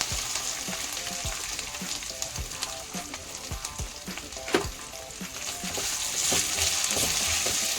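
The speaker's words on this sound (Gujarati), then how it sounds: "તેલ ગરમ થઈ ગયું છે ને હવે આપણે એમાં છે ને લાલ મરચું અને મીઠું નાખી દઈશું" Potatoes frying in hot oil with red chili powder and salt, a strong continuous sizzle with repeated stirring clatters and knocks, close and busy, with no voices.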